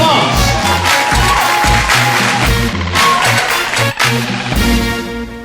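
A conference audience applauding and cheering, a dense, loud wash of clapping and crowd noise layered under booming music, sustained throughout with a brief dip near the end.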